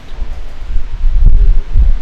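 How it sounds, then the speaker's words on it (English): Steady outdoor wind gusting through trees at a baseball game, gusts rumbling low and a soft rustle of leaves, building louder midway through; no voices. "You can see the trees out there. Wind is gusting."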